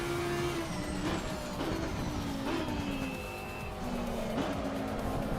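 A GT3 race car engine in a racing simulator game revs loudly and steadily, its pitch climbing and dropping through several gear shifts over a few seconds, with no voices over it.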